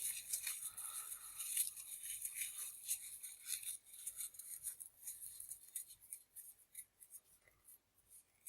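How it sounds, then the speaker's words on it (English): Craft crepe paper twisted tightly by hand makes a faint, close crinkling and rustling, with soft scratchy bursts that thin out toward the end. "I'm just using some craft crepe paper here, and I'm just going to twist it round as tightly as I can."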